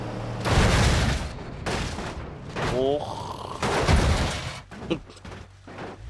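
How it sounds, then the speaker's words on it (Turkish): Mine and TNT blasts strike a Renault van in the BeamNG.drive driving game, several heavy booming bursts spaced apart, loud and close, with a brief exclamation from a voice between them. "Lan TNT'ye girdik, mayına girdik."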